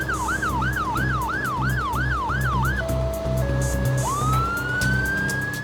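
A loud, close ambulance siren wails in a fast rising-and-falling cycle, then switches to a steadier tone and a long upward sweep over engine rumble.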